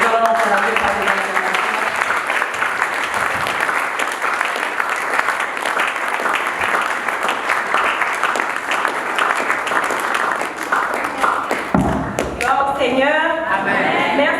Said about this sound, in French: Merci de m'avoir encouragé par les acclamations.